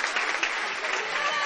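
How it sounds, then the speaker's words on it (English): Fans at a high school basketball senior night cheer for the Mules players heading to the bench, a brief, steady wash of crowd applause filling the gym without distinct individual claps. "big round of applause for the Mules going to the bench"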